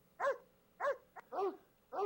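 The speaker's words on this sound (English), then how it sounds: "that's very cool to have dogs barking and Freud talking and all that stuff." Dog barks played back as a computer sound effect, four separate barks in an even rhythm, clear and moderately loud with nothing else around them.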